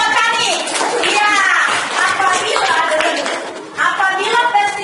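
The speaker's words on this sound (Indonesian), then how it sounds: "Tepuk tangan dalam petani." Schoolchildren in a classroom clapping their hands together in a lively, somewhat rhythmic burst, close and loud, with children's voices calling out over the clapping.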